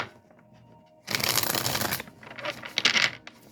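A brisk riffle of cards shuffled close by, a dense burst of papery flutter followed by a few softer taps and snaps.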